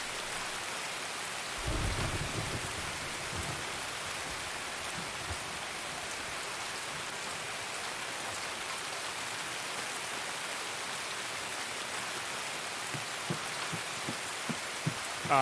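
Steady heavy rain hisses throughout in the video game Escape from Tarkov, with a low rumble of thunder early on and a few sharper drops or taps toward the end.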